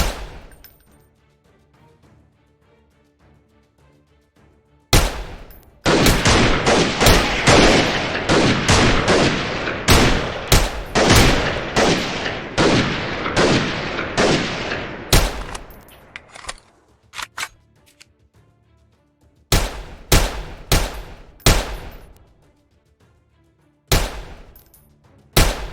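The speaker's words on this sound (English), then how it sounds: "Their weapons are fairly short-range pistols and submachine guns a lot of the time." Short-range pistols and submachine guns fire in a Mount & Blade II modern warfare battle, with a dense, loud burst of rapid shots followed by scattered single cracks and short volleys separated by quiet gaps.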